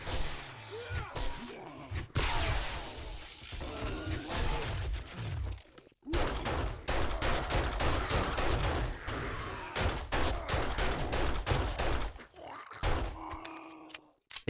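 Pistol gunfire in 7 Days To Die, a long run of rapid sharp shots in clustered bursts with a brief pause near the middle, loud and close over game ambience.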